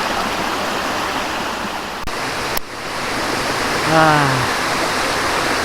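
Continuous roaring rush of the Gunung Naga waterfall on Mount Ratai, Pesawaran, fills the scene, with a brief spoken word near the end over the steady noise.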